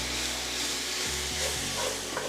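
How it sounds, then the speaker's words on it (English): Ground beef browns and sizzles in a hot pan while a spoon breaks it up, the dense frying hiss steady and close with a few soft scraping pushes. "we're just gonna break this ground beef up with our spoon as we're cooking it and brown it up for about 5 minutes"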